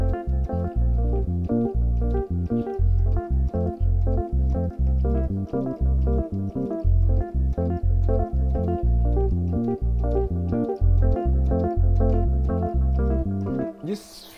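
Piano vamping with split chord voicings, low bass notes alternating with rhythmic mid-range chord stabs in a steady, full groove, played alone.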